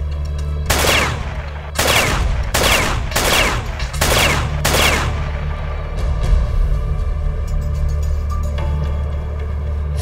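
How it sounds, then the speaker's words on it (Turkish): Five loud gunshots ring out in quick succession, evenly spaced, over a low steady drone, followed by quieter faint rustling and tension. "Çek tetiği, vur."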